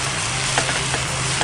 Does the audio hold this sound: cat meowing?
no